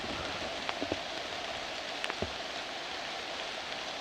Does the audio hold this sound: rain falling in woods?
yes